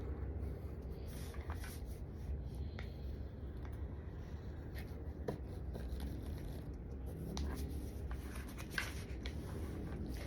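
A pen or marker draws a heart on a homemade Valentine's card, giving soft scratchy strokes over a steady background hiss, close and faint with no talk.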